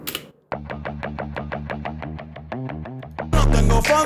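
A grungy, distorted synth guitar sound from the Signal plugin plays a rapid, evenly pulsed riff of repeated notes, ending in a louder, denser crunch.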